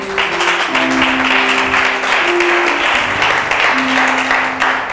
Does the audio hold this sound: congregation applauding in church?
yes